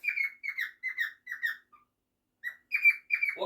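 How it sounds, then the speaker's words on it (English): A pet bird sings festive whistled phrases, a run of bright, evenly spaced chirping notes, then a short pause before more whistles resume, clear and close in a quiet room. "Enjoy Cookie's festive singing"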